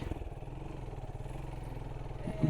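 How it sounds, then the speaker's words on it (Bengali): A motorcycle rides over sand on a road near a new tourist area in Chittagong, its engine a steady, close, low throbbing drone that holds throughout and swells slightly at the end. "বালির মধ্যে সবাই সাবধানে বাইক রাইড করবেন"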